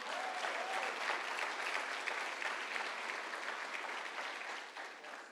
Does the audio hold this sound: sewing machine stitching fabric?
no